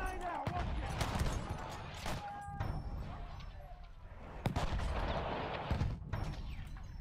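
Gunfire from a scout rifle in Battlefield 1 on the Suez Conquest map, with sharp loud shots near 0.5, 2.2, 4.5 and 5.8 seconds over dense battle noise and steady game ambience.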